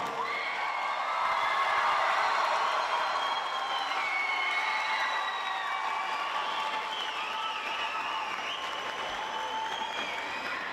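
A large audience applauds steadily for several seconds at a school commencement ceremony, with scattered cheers and whoops rising from the crowd.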